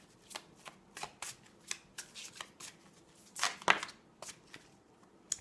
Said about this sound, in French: Allez, on va prendre quelques petites cartes de cet oracle.